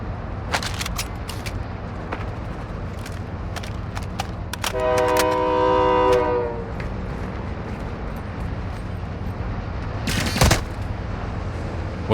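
Moving train in the video game Warzone 2.0 DMZ, a steady low rumble with clicking rail sounds and a loud horn-like tonal blast midway, plus a sharp impact near the end.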